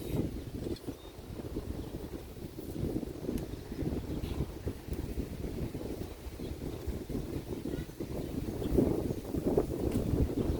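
Wind blowing steadily through a garden of tall pea plants heavy with pods, a continuous low rushing roar that swells slightly toward the end, with no talking.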